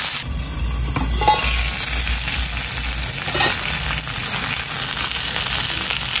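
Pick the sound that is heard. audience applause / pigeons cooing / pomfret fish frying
pomfret fish frying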